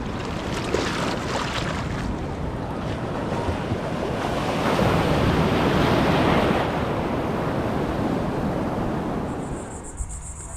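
Ocean surf at Crescent Beach, Florida roars continuously with waves breaking and washing in, mixed with steady wind buffeting the microphone.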